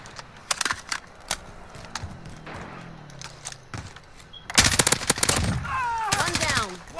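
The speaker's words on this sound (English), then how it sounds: "I'm taking fire." Call of Duty gunfire crackles in rapid automatic bursts and single shots, loud and close toward the end, with players talking over the game sounds.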